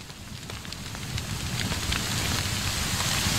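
Rain in the horror game LivingNightmares, falling under a blood-red sky as a steady, fairly soft patter that gently swells in loudness, with no voices.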